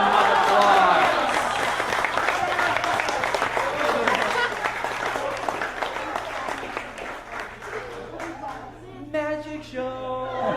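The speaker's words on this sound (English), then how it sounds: "round of applause." Audience at a magic show by a shock illusionist breaks into loud, sustained applause and cheering, fading toward the end as a voice and some musical tones come in.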